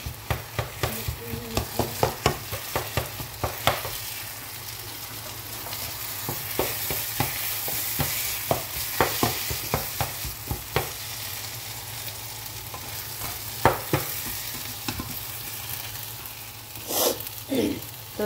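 Potato and bitter gourd peels fry in a pan with a steady, close sizzle. Frequent sharp scrapes and taps from stirring punctuate the frying, with a brief voice near the end.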